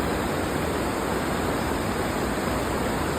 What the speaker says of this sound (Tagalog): Napakalakas ano, po ng agos sa kasalukuyan